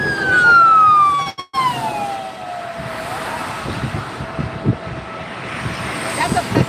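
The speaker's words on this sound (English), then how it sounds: "Look how everybody's pulling over to let the ambulance by." An ambulance siren wails past in city traffic, loud and close at first with a falling pitch sweep as it goes by, then fading under traffic noise while a person talks.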